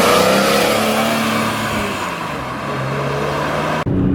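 A BMW E46 M3's S54 engine revs hard toward about 8,200 RPM with a rising, then falling mechanical whine under loud road and wind noise, ending abruptly.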